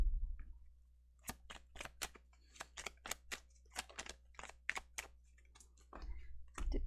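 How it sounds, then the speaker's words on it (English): Tarot cards shuffled by hand in a quiet room, a run of soft, crisp ticking riffles in an uneven quick rhythm over a low hum, close and faint. "I try to shuffle as fast as I can"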